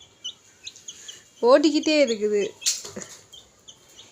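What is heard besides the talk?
chick peeping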